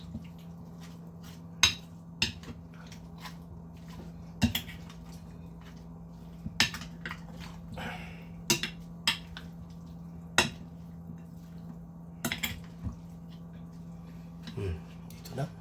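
Kilawin of grilled pork with tuna being tossed in a bowl, with scattered soft clinks and wet squishing strokes at an uneven rhythm over a steady low hum, close and fairly quiet.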